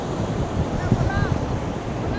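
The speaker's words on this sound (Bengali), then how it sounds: "আর দারুণ হাওয়া দিচ্ছে, দারুণ" Strong wind gusts across the open sand at Bakkhali sea beach, a steady roar of wind noise blended with the wash of surf. It stays loud and continuous throughout, with faint crowd sounds in the background.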